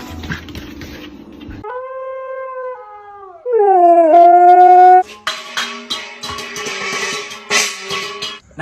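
A fluffy pet dog howls in long rising and falling wails, then breaks into higher whimpers and yips. The sounds are close and loud, with rustling before and after.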